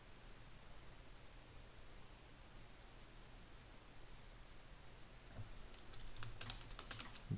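Keystrokes on a computer keyboard, very faint and sparse at first over a steady hiss, then a quick burst of clicks toward the end, with no one talking.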